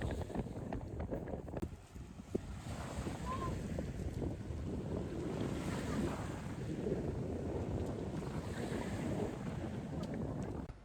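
Strong wind buffets the microphone on an April beach on the island of Pag in Croatia, a steady loud roar with waves underneath and a brief faint voice.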